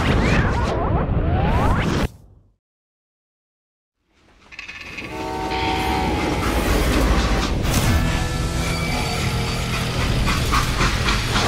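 A train rolls along the rails in a Western-themed video game, a steady, loud rumble with hissing steam and clattering wagons that builds after a short silent gap and carries on without talk.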